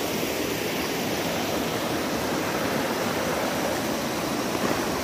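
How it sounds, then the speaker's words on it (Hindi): A river rushes steadily along the way to Suntali Khola in the Dooars, a dense, even wash of flowing water with no pauses, close and fairly loud, alone without talk. "ये जो अभी आवाज़ आपको सुनने को दे रही है, ये रिवर की आवाज़ है, पानी का आवाज़।"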